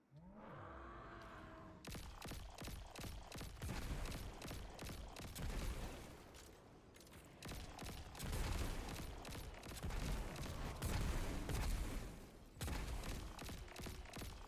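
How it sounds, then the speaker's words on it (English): Sustained automatic gunfire from the video game Destiny 2 empties a full magazine, a dense rapid burst of shots running nearly continuously for over ten seconds with a brief pause near the end, loud and with no talk over it. "Let's see how long it takes if I just dump the mag"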